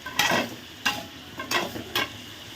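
Vegetables being stirred and sautéed in a pan for a sambar: four distinct scraping strokes of a spoon across the pan, each with a brief rustle, over a low, soft sizzle with no talking.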